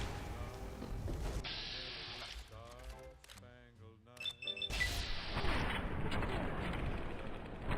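Muffled blasts and gunfire-like bursts from the video game Fallout New Vegas, with a sharp hit near the start and another burst around five seconds, fairly quiet overall.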